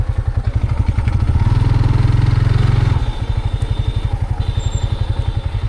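A motorcycle engine putters close by with a rapid, throbbing rhythm, briefly revving louder before settling back to a steady run.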